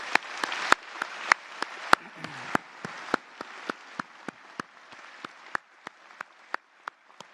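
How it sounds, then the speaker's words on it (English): Graduation ceremony audience at an arts, media and creative technology school clapping in a steady, fairly sparse rhythm, individual sharp claps standing out clearly and continuing evenly with no talking over them. "should we give a little clap to you guys and just celebrate everything you've done?"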